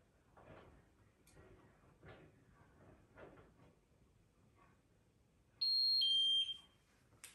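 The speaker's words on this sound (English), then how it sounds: "So that's the buzzer that it has, and it does that every 15 seconds." Faint background movement, then a Miele W1 washing machine's end-of-cycle buzzer sounds a short series of high beeps, loud and close, before stopping.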